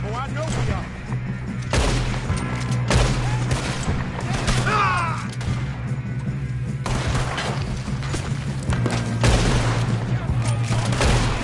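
Gunfire in a Red Dead Redemption 2 shootout: repeated loud cracks and volleys of shots spread throughout, some near and sharp, others layered with echoing booms, and voices talking between the bursts.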